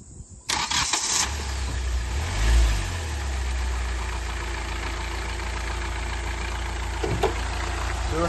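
A Hyundai i20 Active CRDi diesel engine cranks and catches with a brief starter burst and a rev swell. It settles into a steady, close, low idle that continues to the end.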